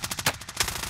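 Rapid automatic gunfire in Call of Duty: Warzone, a quick burst of about a dozen sharp, evenly spaced shots with two louder cracks, heard alone and fairly close.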